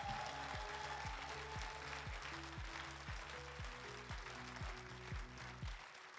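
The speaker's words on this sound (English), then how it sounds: "Give a round of applause for our winners here." Applause from the audience at an award ceremony for women innovators, a soft, distant wash of clapping sitting under a loud, steady rhythmic music bed with pulsing low beats.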